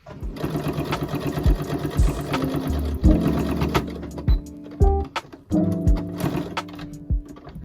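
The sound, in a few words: sewing machine stitching fabric for a ferret ramp tent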